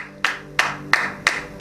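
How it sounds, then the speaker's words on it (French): A congregation claps hands at a church Passover seminar service, giving five sharp, evenly spaced claps in a steady rhythm with quiet gaps between them. "Let us clap our hands for Jesus."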